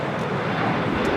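Jet airliner roaring on its takeoff roll on runway 25 right at LAX, a steady broadband engine rumble, loud and continuous for about a second with no talk.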